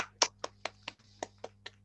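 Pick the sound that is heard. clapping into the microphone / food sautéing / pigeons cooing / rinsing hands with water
clapping into the microphone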